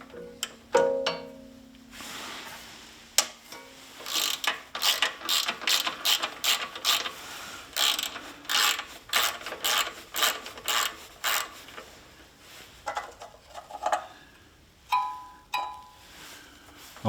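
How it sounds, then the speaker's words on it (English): A hand ratchet clicks rapidly and loudly up close as a bolt is backed out to free an earth wire, in several fast bursts of cranking separated by short pauses. "I'm just going to take this bolt out and pull this earth out"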